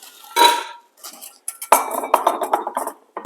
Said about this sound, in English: So we're going to start dumping the chocolate and the butter in there.